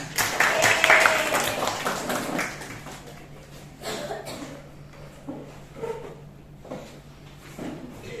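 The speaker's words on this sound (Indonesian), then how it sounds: "Ya, tepuk tangan dulu untuk kawannya." Students in an eleventh-grade hydrostatics lesson at a madrasah clap for a classmate, a loud burst of applause at the start that quickly dies away into scattered taps and room noise.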